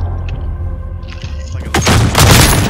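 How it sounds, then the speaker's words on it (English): Shotgun blasts in Call of Duty: Modern Warfare gameplay, a loud burst of booming game gunfire erupting after a quieter stretch and continuing in heavy overlapping shots. "Dude, this shotgun I'm using, the cheating shotgun, that's a beast"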